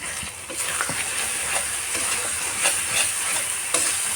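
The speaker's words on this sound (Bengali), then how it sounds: "এবার ভালো মতন কষিয়ে নেব মশলাটাকে" Spice masala sizzling and hissing steadily in a hot pan as it is sautéed for a chital fish curry, with faint scraping stirs throughout and no talk.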